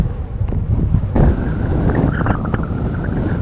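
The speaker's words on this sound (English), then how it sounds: "it is extremely windy" Strong wind buffets the microphone at the Hverir geothermal area in Iceland among hissing steam vents, a loud, rough roar rising in gusts with no one talking.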